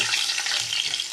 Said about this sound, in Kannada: ಈರುಳ್ಳಿ ಹಾಕ್ತಾ ಇದ್ದೇನೆ ನೋಡಿ. ಸ್ವಲ್ಪ ಸಾಸಿವೆ ಹಾಕಿದ್ದೇನೆ, ಸ್ವಲ್ಪ ಜೀರಿಗೆ ನೋಡಿ,